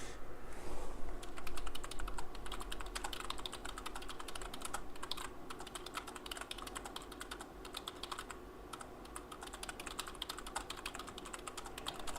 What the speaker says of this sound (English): Apologies if you can hear my typing there.